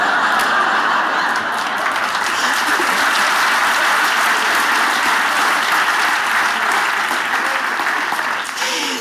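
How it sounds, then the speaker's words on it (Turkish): Sustained, loud applause from a studio audience at a Turkish comedy sketch show, dense and steady throughout without a break, tailing off slightly at the very end. "Alkışın bitmesini bekledim."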